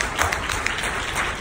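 At a book conference panel, an audience applauds in a short, steady burst of many hands clapping together, fairly loud and close, with occasional sharper claps standing out.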